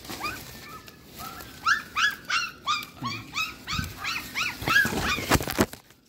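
A puppy outdoors lets out a quick run of high whimpering yips and small barks in an uneven rhythm, fairly close and loud, with a rustle near the end.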